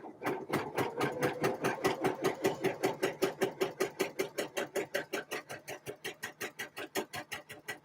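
A sewing machine sews a buttonhole on a dress, a quiet, even, rapid stitching rhythm that carries on steadily throughout.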